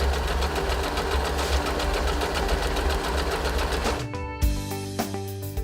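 An Usha Wonder Stitch sewing machine runs with a steady, rapid mechanical whirr and needle clatter. The sound then shifts and slows near the end with a few knocks, close and loud.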